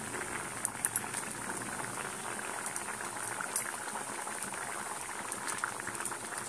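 A pot of elephant foot yam curry bubbles at a rolling boil with dumplings added, a close, steady simmering fizz dotted with small pops and no voices.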